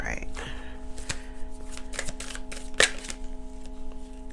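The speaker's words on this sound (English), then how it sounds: "let me shuffle these the right way" A deck of playing cards is shuffled close up, giving several quick riffling bursts and flutters over a steady low hum.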